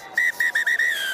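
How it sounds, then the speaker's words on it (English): A referee's final whistle at a World Rugby HSBC sevens match in Vancouver, 2023: a run of short, shrill blasts ending in one longer held tone, loud and close, with no talk over it. "And that is the final whistle."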